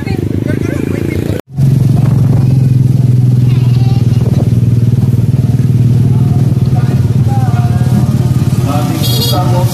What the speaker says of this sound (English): Motorcycle ride.